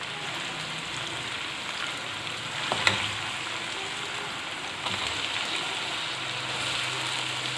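Steady hissing sizzle of chicken frying in hot oil with ginger-garlic paste in a karahi, with an occasional clink of a utensil, no voices.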